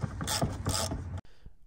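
Ratchet clicking repeatedly while removing a bolt from the front end of a 2014 Ford Fusion, close and fairly loud in a couple of short bursts before stopping.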